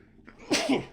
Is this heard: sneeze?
yes